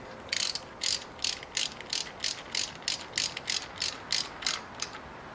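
A hand ratchet snugs down a spark plug on a 2006 Toyota Corolla, giving a close, crisp run of about fourteen evenly spaced clicking bursts with no talking.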